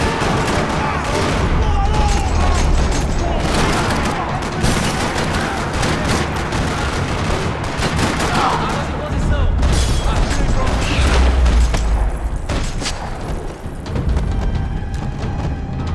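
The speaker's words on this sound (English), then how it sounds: "Another parking lot rattling with gunfire." Sustained automatic gunfire rattles through a parking lot in the Max Payne 3 video game, dense bursts and booms layered continuously with game sound and occasional voices.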